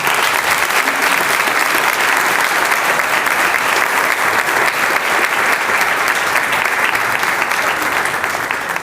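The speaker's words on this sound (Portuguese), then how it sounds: "Vamos aplaudir esses irmãos." A church congregation at a cell-group conference claps loudly and continuously for several seconds, a dense, even roar of many hands filling the hall and tapering slightly at the end.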